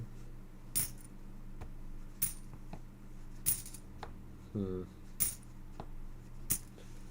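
Quarters from coin rolls being handled, with sharp metallic clinks and clicks spaced every second or so over a quiet background, close and fairly soft.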